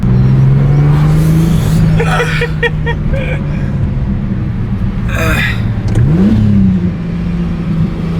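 A Toyota Chaser with a 1JZ engine revs hard and accelerates, its engine note rising and dropping as the wheels spin, loud and close, with excited voices talking over it.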